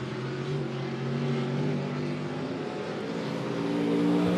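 Late model race cars thunder around Monett Motor Speedway, a continuous distant engine drone with rising revs as the pack circles the dirt track.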